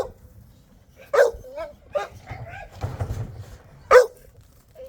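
Bully breed dogs barking in a kennel yard on a cold day: a few sharp, separate barks with soft whimpers and yips between them, heard nearby in a quiet outdoor setting.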